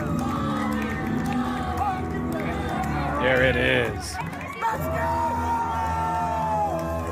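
A wrestling arena crowd at the SPW Warpath event cheers and whoops loudly behind a wrestler's entrance, a roaring wall of voices with yells rising and falling, while a commentator talks over it.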